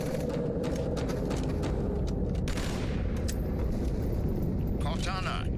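Gunfire in Halo 2 as a room is cleared, bursts of rapid shots and booms over steady game noise, with a person talking over the action throughout.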